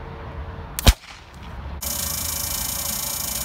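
A homemade potato cannon fires with a single sharp bang, loud and close, followed by a brief quieter gap and then a steady broadband hiss or rush of noise.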